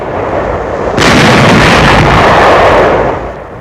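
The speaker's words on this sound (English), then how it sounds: "Firing on enemy barges in the Rhine before Dusseldorf." Wartime artillery fires on enemy barges in the Rhine near Dusseldorf: a sudden loud blast opens a sustained roaring rumble that lasts about two seconds before fading, with a noisy background beforehand.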